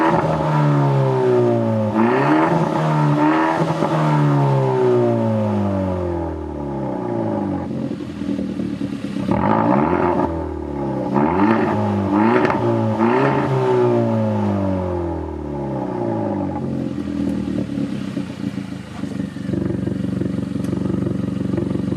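A Hyundai Elantra GT N Line with a custom muffler delete revs hard, its loud raspy exhaust rising and falling through repeated sweeping blips close by, with a rough idle drone between pulls and no talking.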